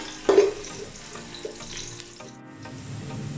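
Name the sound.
onion frying in hot oil until light brown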